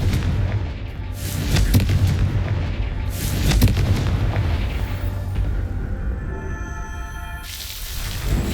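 Confringo blasting spells go off in Hogwarts Legacy, a string of heavy booming explosions with rumbling tails that carry through the clip, followed by a fainter tonal shimmer near the end.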